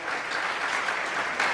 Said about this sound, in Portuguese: Vamos dar uma salva de palmas para o pastor Roberto